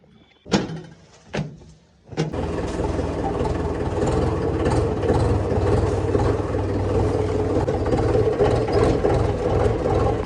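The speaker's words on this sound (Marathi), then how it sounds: "आता जायचे ट्रॅक्टर घेऊन मका आणायला" A couple of loud door thuds open the clip, then a tractor engine starts and runs steadily with a loud, rumbling drone until the end.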